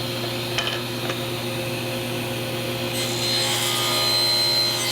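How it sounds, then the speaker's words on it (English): Saw cutting the ends of wooden picture frame pieces at a miter gauge set block, a steady close sawing drone with a few sharp ticks early on and a brighter, harsher cutting tone in the second half, no talk. "I'm going to get ends cut first, then come back and cut the final look."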